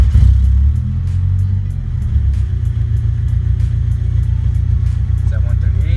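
Car engine at idle right after starting, a drift build project car, with a heavy low rumble that settles into a steady idle and faint ticking above it.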